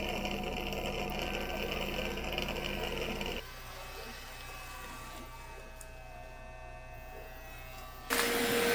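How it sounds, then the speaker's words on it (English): A Mova P10 Pro Ultra Gen 2 robot vacuum drones steadily, then drops to a quieter whirring hum as it switches from carpet to hardwood mode, before a louder surge at the end as it cleans itself. "This is just to show you guys how it switches from the carpet vacuum to the hardwood vacuum."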